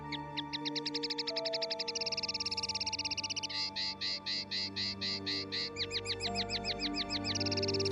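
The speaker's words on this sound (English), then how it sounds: "It was really only a little linnet singing outside his window" A linnet sings a bright, rapid series of trilled chirps, close and clear, over steady low background tones.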